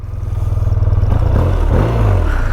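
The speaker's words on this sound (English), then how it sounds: "Not a bad exhaust note for a boxer at all." A BMW R12 G/S boxer-twin motorcycle pulls away, its exhaust giving a loud, close, pulsing low rumble that rises as the engine revs and shifts. No voices are heard.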